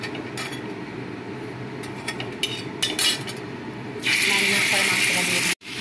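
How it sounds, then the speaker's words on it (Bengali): Marinated chicken is stirred and fried in a pan, with metal utensils scraping and clinking against it before a loud, steady sizzle surges up near the end. "দিয়ে এবার একটু নাড়িয়ে চাড়িয়ে মাংসগুলোকে একটু ভেজে নেবো।"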